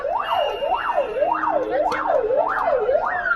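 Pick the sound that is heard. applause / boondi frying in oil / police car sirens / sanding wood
police car sirens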